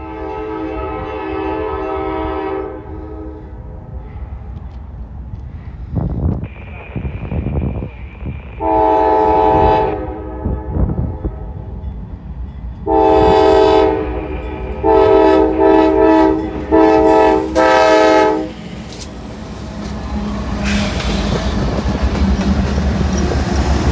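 Canadian Pacific freight train passing close by, its horn sounding in several loud sustained blasts over a steady rumble and rail clatter.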